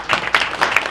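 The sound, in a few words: audience applause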